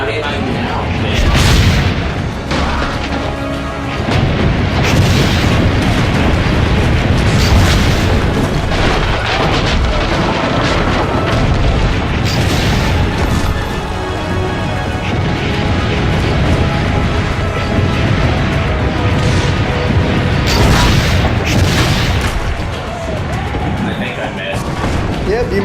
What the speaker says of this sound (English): Destroy their cannons!